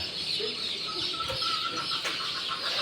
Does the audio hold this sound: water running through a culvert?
no